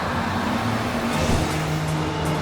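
Steady engine drone of cars on the road ahead in a children's cartoon about a police chief, a continuous rumble with a slight swell, no talk over it.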